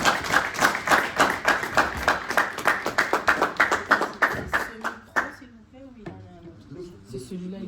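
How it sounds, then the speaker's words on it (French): Audience applause welcoming a political figure, President Fidèle Moissa, at a patriotic party meeting: steady, dense clapping for about five seconds that then fades out, followed by people talking. "sous vos acclamations, s'il vous plaît"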